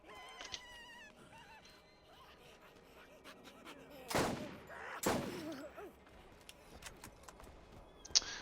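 Gunfire from a weapon in the Borderlands video game: two sharp bursts about a second apart and a brief crack at the end, all over a faint, quiet game background.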